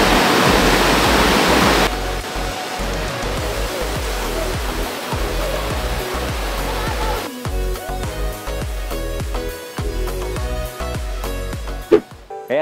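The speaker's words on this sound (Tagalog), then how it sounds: "nandito na tayo sa Ita-Ita Falls sa Sierra Madre Mountain Range" Ita-Ita Falls in the Sierra Madre Mountain Range pours in a loud, steady roar of rushing water throughout, with music playing over it and occasional thumps.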